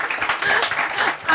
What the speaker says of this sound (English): I'm thankful that everyone applauded